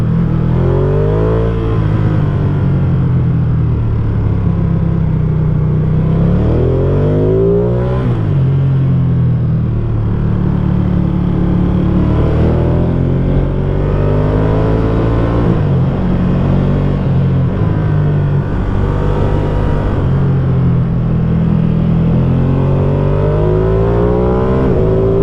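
A motorcycle engine rumbles and revs continuously on a Swiss mountain pass as the rider shifts through the gears, pitch rising and falling with each change under steady wind noise, close and loud throughout.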